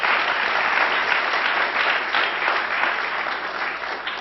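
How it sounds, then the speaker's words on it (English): An audience at a university VR event applauds steadily, a dense wash of clapping from many hands that stays loud and even for several seconds with no voices over it. "So we deserve a round of applause for that."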